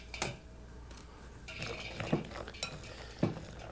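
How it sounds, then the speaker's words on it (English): A whisk folds walnuts into a sweet batter for an Asian-style buffet dish, giving a few soft, wet stirring strokes and light clinks against the bowl, separated by quiet pauses. "place all our walnuts in the batter, like so. Take out our whisk."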